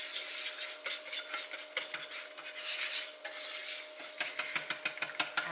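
Butter melting in a pan for a white sauce is stirred briskly with a utensil, giving continuous close scraping and rubbing against the metal, with quick rhythmic clicks toward the end; no voices.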